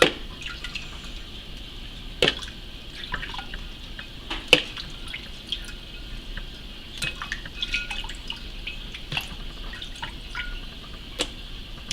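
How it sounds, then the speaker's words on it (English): Water poured over blanched, peeled tomatoes in a pot, heard as soft liquid splashing and scattered drips with a few sharper clinks, fairly quiet and with no talking. "Cover them with a little bit of water, about like that."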